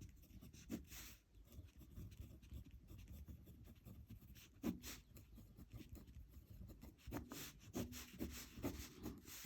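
A pen scratches steadily across paper while a class 10 math problem is worked out by prime factorization, faint and close, in short bursts of strokes with brief pauses and no talking.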